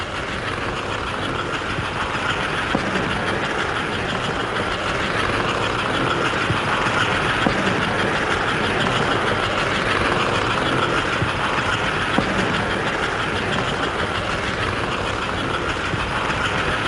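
American Flyer model trains run on a railroad club layout, giving a continuous, even whirring rumble that holds steady throughout, with no speech over it.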